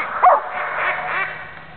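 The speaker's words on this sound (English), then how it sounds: "catch the duck call" A duck call is blown at a retriever hunt test. Several short nasal honking blasts come up close and fairly loud, with a faint steady hum underneath.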